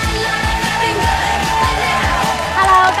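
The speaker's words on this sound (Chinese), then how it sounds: "来，掌声有请。" Studio audience on a TV dating show applauding and cheering to welcome a guest, with a dense wash of clapping and whoops under rhythmic stage music, loud and continuous.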